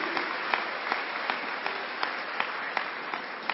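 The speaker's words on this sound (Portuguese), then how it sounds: "Pode aplaudir. Pode aplaudir." A church congregation applauds during a Portuguese-language sermon: a steady, moderately close wash of clapping with a few sharper individual claps standing out, and no speech over it.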